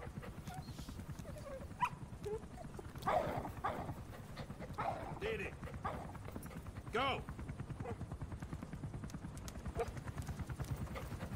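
A puppy in the Metal Gear Solid 5 video game barks and whimpers in short bursts, alongside rhythmic hoof clip-clop and game sounds, while someone talks over it.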